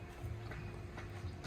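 Horse hooves clip-clop faintly and irregularly at a horse stable near Xieng Khuan village in Laos, distant beneath steady background noise.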